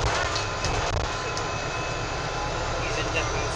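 A Stagecoach West bus engine screams with a loud, sustained high whine and steady rumble, close by, while people talk over it.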